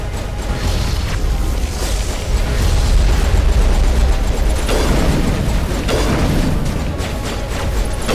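A grenade blast in Mass Effect Legendary Edition, a sustained loud rumbling explosion with crackling bursts and combat din throughout, fairly close.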